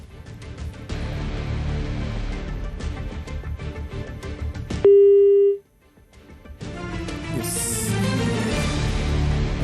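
A single steady telephone tone after a call is cut off, lasting under a second and heard alone between stretches of louder background sound.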